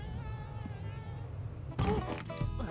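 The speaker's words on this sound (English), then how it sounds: "Bees, come here. Come on, bees." Insect-like buzzing from the bees in the video game Conker's Bad Fur Day, a steady droning hum that carries through the clip, with louder game sounds breaking in near the end.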